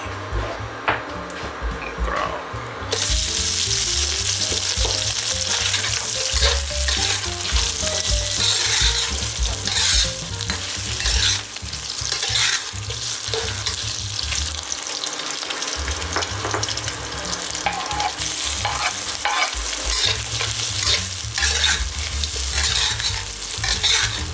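Crispy pork stir-fried with chili and salt sizzles loudly in a pan, with continuous scraping and tossing of the ingredients throughout, the frying intensifying after a quieter start.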